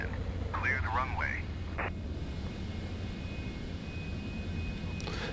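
Cessna Citation jet landing in Microsoft Flight Simulator 2024, a steady low engine drone and rumble running throughout, with radio chatter and voices over it near the start.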